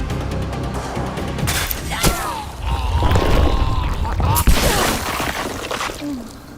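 Wet bursting blasts and crashing impacts as zombies explode in the survival horror game Resident Evil 9, with a couple of sharp cracks standing out amid rumbling in-game noise.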